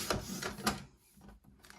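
A paper piece for a card layout is trimmed with a couple of quick, soft cutting strokes, faint and close, followed by quieter handling.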